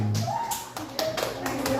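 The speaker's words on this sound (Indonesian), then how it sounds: "Betul, tepuk tangan" Several sharp claps ring out in quick succession, loud and close, with a voice briefly mixed in, children clapping in an elementary school classroom.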